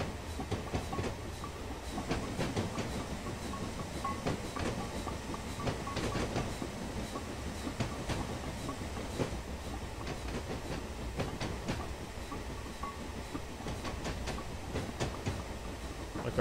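A Black 5 steam locomotive running through winter on the North Norfolk Railway in Train Simulator, giving a steady rumbling roll with rhythmic clickety-clack of wheels over rail joints, close and continuous throughout.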